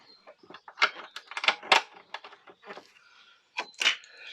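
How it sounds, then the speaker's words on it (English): A ratchet turns 10mm bolts on a Yamaha FZR 600 motorcycle, heard as short, close clicking bursts in uneven clusters with brief pauses between them. "Let's get our ratchet"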